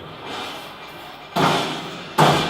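Cabinet door beneath a Broil King Baron 490 gas grill closing: two sharp thumping slams about a second apart, close and loud over a quiet room background.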